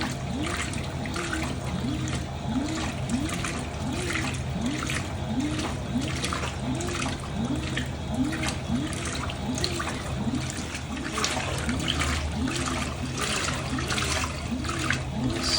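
A Fisher & Paykel Intuitive washing machine takes in water during a mixed-colours wash, a steady hiss and trickle running with a rhythmic churning slosh underneath, fairly quiet and continuous.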